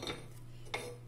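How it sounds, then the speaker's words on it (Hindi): A pressure cooker is set down on a lit gas stove while making carrot halwa, giving two brief, faint metallic clanks against a steady low hum. "उसके ऊपर हम एक कुकर रख देंगे"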